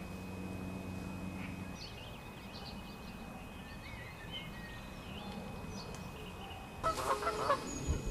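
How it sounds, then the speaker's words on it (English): Canada geese honk repeatedly from a distance beside a gravel pit, the calls faint and scattered over steady outdoor ambience, with a louder burst of honking near the end. "No doubt you can hear the Canada geese in the background."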